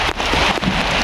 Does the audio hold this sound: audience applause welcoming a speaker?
no